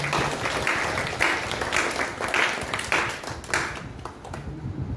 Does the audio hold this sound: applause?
yes